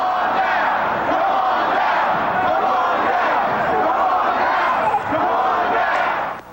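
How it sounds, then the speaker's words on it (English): A large crowd of Valencia Gardens tenants and supporters chanting loudly and rhythmically at an anti-drug march outdoors, voices overlapping in a sustained roar. "The chants were both chilling and infectious."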